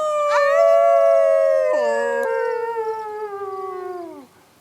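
A wolf howls in one long sustained call, rising then slowly falling in pitch, loud and close with a brief break midway before trailing off at the end.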